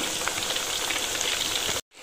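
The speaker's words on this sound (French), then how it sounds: "pour frire des bananes" Plantain bananas fry in hot oil, a steady dense sizzling crackle heard close and continuous before cutting off abruptly near the end.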